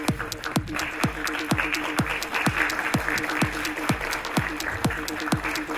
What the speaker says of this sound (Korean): 박수 쳐주셔도 감사하겠습니다.